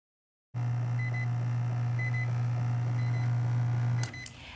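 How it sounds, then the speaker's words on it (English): A Zojirushi Home Bakery Virtuoso bread maker hums steadily while a faint high electronic add-ingredient beep repeats about once a second, three times, before a click and the hum stopping. "At the time that the ad beep sound, open the lid"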